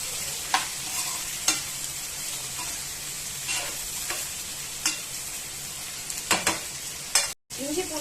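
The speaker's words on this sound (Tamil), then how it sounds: "தக்காளி நல்லா வதங்கணும்." Tomatoes sautéing in a pan for a goat leg mutton curry give a steady soft sizzle, with spoon clacks and stirring scrapes at irregular intervals, close by, and a brief drop out near the end.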